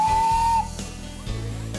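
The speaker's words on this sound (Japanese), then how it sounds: "ミニといっても石炭を燃やして蒸気で動く本物の蒸気機関車です" A single loud, steady steam whistle blast lasting about half a second, followed by chuffing and hissing steam from a small coal-fired miniature locomotive.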